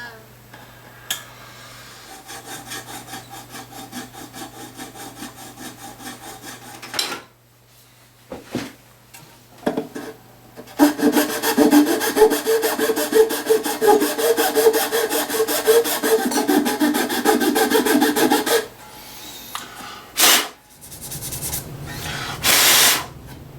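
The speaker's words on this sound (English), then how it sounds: "I did a bit more shaping around the nut there, just to make her nice and comfortable." Filing and shaping the nut of a 1970s Univox Les Paul copy guitar, close rasping strokes that start light and intermittent, then turn into a loud steady scraping run before a few final short strokes.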